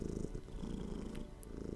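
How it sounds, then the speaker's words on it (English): A domestic cat purrs right against the microphone, a close, soft rumble pulsing in a steady rhythm of breaths, with no voices. "cat is purring nicely in the microphone"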